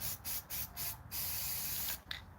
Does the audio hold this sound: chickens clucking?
no